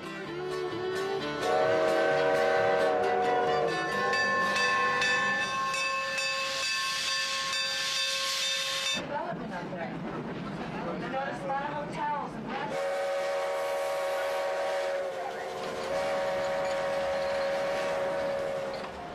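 Grand Canyon Railway train departing Williams, with a loud, long steam-style whistle blowing in several sustained blasts over hissing steam and rolling rail noise, fairly close.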